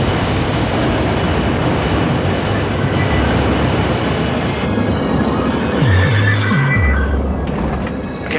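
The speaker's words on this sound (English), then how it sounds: "as an American Airlines jet prepared to land amid fierce thunderstorms" Reconstructed cabin ambience of an American Airlines jet preparing to land in fierce thunderstorms: a steady, loud broadband roar of engine and airflow throughout, with a few low tonal swoops near the end and no speech.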